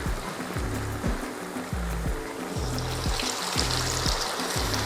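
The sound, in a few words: cassava (mogo) sticks frying in oil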